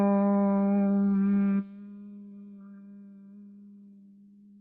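A single Om chanted by a voice: a sustained, resonant hum that shifts from an open vowel to a softer, steady closed hum, held for several seconds and quiet in level.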